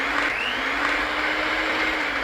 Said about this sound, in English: We got to cream the butter with the sugar. Come on. Butter, sugar, mixer,